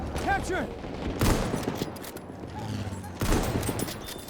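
Gunfire from the video game Battlefield 1 crackles in bursts, with a heavy blast near the start and another near the end, while a player talks over the action.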